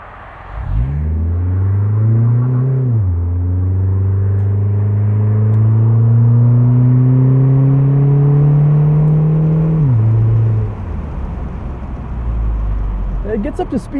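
A 2008 Mitsubishi Eclipse Spyder convertible with a 4-speed automatic accelerates on a city commute, engine droning up through a long rising pull, dipping at a shift and climbing again, then easing off near the end.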